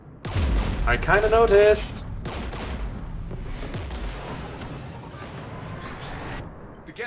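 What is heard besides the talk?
gunfire in video game Mass Effect 3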